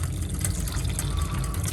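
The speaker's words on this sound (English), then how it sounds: "Pour some hot water" Hot water pours steadily into a pot, a continuous close splashing fill lasting under two seconds with no talking.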